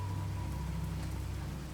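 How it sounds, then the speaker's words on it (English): Rain falling in Minecraft on a frozen lake, a steady, dense patter of drops with a low rumbling undertone, continuous and moderately quiet with no voices. "It started raining."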